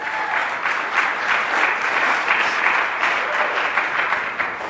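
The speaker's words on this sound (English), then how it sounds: "One more round of applause." Seminar audience giving a sustained round of applause, dense and even clapping filling the room at moderate loudness, with no talk over it.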